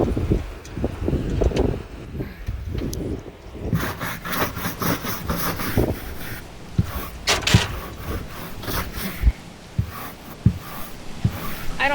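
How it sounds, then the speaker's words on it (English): Strong wind gusting around a parked RV, a rough rushing roar with buffeting against the microphone, loud and close, broken by a few scattered knocks and rattles. "The wind is just rocking out there. The wind is just crazy,"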